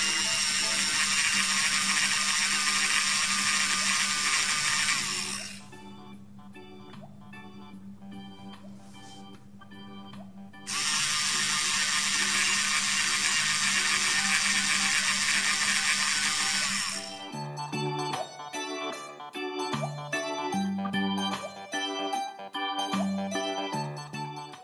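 A Play-Doh Drill 'n Fill toy dentist drill cranks with a rapid plastic ratcheting whir in long loud bursts, pausing and resuming, then shifting to choppier clicking near the end, with no voices.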